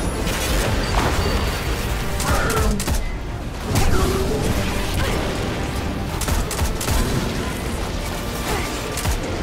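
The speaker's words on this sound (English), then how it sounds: "Oh, that's a grenade." Explosive boom of a grenade in the video game Destiny 2, bursting amid dense, continuous gunfire and crashing combat noise that stays loud and busy throughout, with a brief surge of impact partway through.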